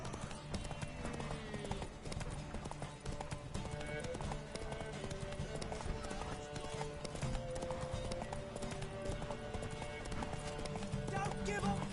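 Horse hooves clip-clop in a quick running rhythm beneath a busy mix of music, effects and a voice talking over the top.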